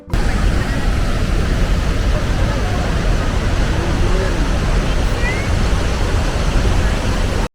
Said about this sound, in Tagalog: Ang sarap pakinggan ng pagbaksak ng tubig